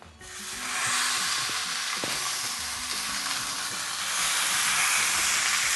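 Steaks hit a hot dry Delimano grill pan with no oil, bursting into a loud, steady close sizzle and hiss that swells slightly and continues with crackles underneath.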